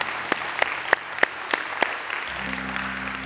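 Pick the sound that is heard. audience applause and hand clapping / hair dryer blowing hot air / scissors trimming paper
audience applause and hand clapping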